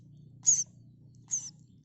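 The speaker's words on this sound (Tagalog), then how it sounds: "What does the bird say?" A bird at feeding time on a farm gives two short, high chirps about a second apart over a faint low background hum, with no talking.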